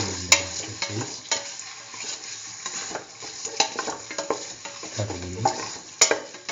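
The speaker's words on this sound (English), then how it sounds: "mix chicken in the mustard paste," Chicken being stirred through mustard paste in a hot pan, with a run of scraping, clattering stir strokes over a steady background sizzle, close and fairly loud, no voices.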